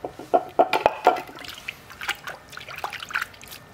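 Dirty water trickling and dripping around a Schluter Kerdi drain flange during a leak test, irregular close splashes and drips, busier at first then thinning out, with no talking.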